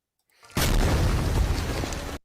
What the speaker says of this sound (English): Oh, there was the explosion.